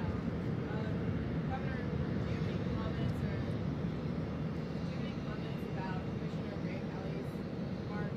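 A jet airplane roars steadily near LaGuardia Airport, a broad continuous rumble that covers the whole stretch, with faint voices murmuring underneath.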